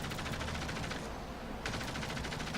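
Aircraft machine guns fire in rapid continuous bursts in the video game World of Warplanes, with a brief break in the rattle midway over a steady engine drone.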